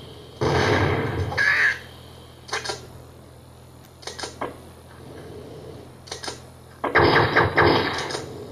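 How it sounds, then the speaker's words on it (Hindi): Bursts of gunfire from a video game, several separate volleys of shots with quieter gaps between them, ending in a louder sustained burst, no talking over them. "देखो इतना मैंने गोली चला दिया फिर भी ये नहीं मरा"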